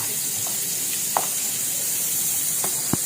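Onion dropped into hot oil in a pan gives a loud, continuous hissing sizzle, with a few faint clicks and taps of a utensil over the steady frying.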